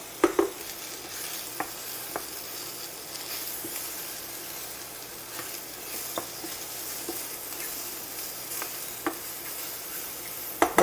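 Mushrooms sautéing in a pan left with drippings from cooked chicken, giving a continuous moderate sizzle with occasional clinks and scrapes of stirring, up close and without voices.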